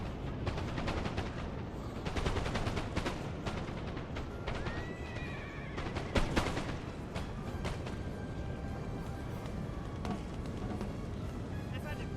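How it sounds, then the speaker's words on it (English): Musket volleys crackle continuously through a Napoleon: Total War online battle, many overlapping shots forming a dense, steady rattle under a voice. "A lot of friendly shooting here going on."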